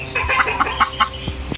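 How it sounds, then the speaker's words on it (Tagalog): Native chickens cluck in a loud, rapid series of short calls, close by with a low hum beneath them. "ang dami ko pong nakakalat na native na manok"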